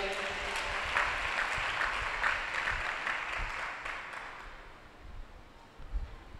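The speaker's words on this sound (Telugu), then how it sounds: "కట్టు చప్పట్లు ఒకసారి" A church congregation claps together during a sermon, a soft, fairly distant patter of many hands that thins and fades toward the end.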